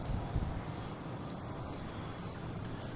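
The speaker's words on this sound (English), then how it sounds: "KLM coming in from Amsterdam, flight 617." A KLM airliner arriving from Amsterdam at Boston Logan airport, heard as a continuous broadband engine roar and rushing wind, steady and fairly loud throughout with no voices.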